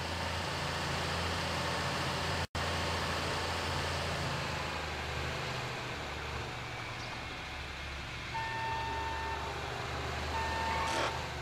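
A heavy machinery vehicle in Grand Theft Auto 5 rumbles steadily with a low droning engine and noisy hiss, with faint intermittent beeps toward the end.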